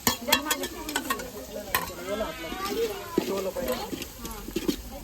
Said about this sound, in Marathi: इथं तेलामध्ये लसूण खोबरं टाकून घेतलंय त्यांनी आणि आता परतवत आहेत